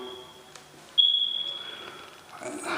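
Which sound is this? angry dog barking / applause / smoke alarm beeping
smoke alarm beeping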